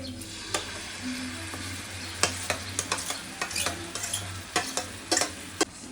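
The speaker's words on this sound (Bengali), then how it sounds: "এখন এগুলো খুব ভালো করে কষিয়ে নেব" Mango pieces sizzle as they fry in a pan with ground spices for chutney, a steady frying hiss broken by repeated sharp clicks and scrapes of a spoon stirring against the pan, with no talking.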